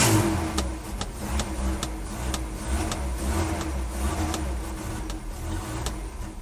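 A 1983 BMW 320i E21 engine revs steadily and loudly close by, a continuous throaty mechanical drone with repeated throttle blips and no talking.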